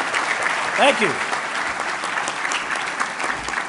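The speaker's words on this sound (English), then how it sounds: "Give him a big round of applause." Awards ceremony audience applauding in a large hall, a steady sustained wash of clapping as someone briefly speaks over it.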